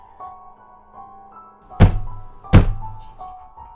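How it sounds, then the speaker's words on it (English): Two heavy, booming thuds strike a front door less than a second apart, loud and close against a quiet, faintly humming room. "The thudding at the front door continues, almost rhythmically."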